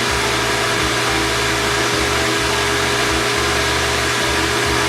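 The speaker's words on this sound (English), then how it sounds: "So we're going to go ahead and turn this pump on." Pump on an industrial IIoT demonstration skid running steadily, a continuous close motor hum with a low pulsing throb that rises and dips in regular surges throughout.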